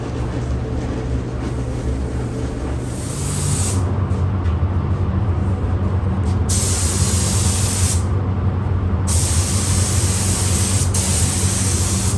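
Sealer hisses steadily from a spray gun onto a 1989 Ford F150 during restoration, a continuous broadband rush that grows louder after a few seconds and holds near and unbroken.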